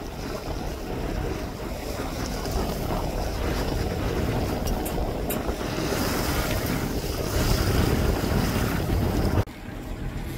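A sailboat sailing in wind and waves, with steady wind rush buffeting the microphone over continuous wash of water against the hull, fairly loud throughout and easing slightly at the very end, no voices.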